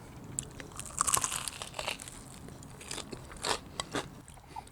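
Crunchy bites into crispy, darkened kettle-fried chicken cooked with a Vortex insert, close and fairly quiet, several sharp crackling crunches followed by softer chewing.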